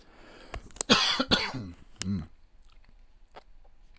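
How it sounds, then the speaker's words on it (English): A man coughs from an itchy throat, several sharp dry coughs bunched together near the microphone, followed by quieter clicks and mouth noises. "It's my throat itching. It's making me cough."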